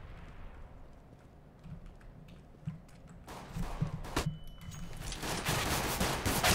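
Gunfire in CS:GO, at first scattered distant shots and footstep-like knocks, then louder bursts of rapid fire building up close toward the end, with no talk.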